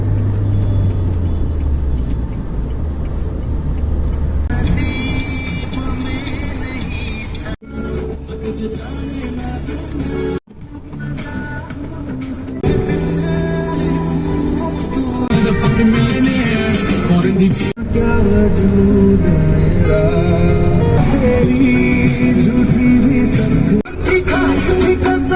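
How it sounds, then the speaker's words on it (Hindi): A car pulls hard and gathers speed on the Yamuna Expressway past Agra, its engine and road roar loud and steady close by, with the drone rising and shifting as the run goes on. "अब गाड़ी को खींचते हैं।"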